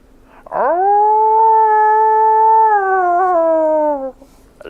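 A person imitates a dog's howl with one long, loud, sustained vocal wail that rises, holds steady, then wavers and dips before cutting off, performed alone and up close.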